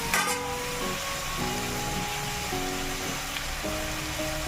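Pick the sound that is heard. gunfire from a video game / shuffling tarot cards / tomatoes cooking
tomatoes cooking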